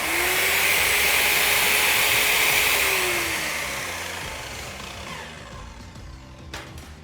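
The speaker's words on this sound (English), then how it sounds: "As soon as I ease off the trigger, the electronic blade brake kicks into immediate effect, stopping the blade in mere seconds." An Evolution S210CCS circular saw whines loudly at full speed with a steady high motor tone, then winds down as its electronic blade brake slows the blade to a stop within a few seconds, leaving a quieter tail.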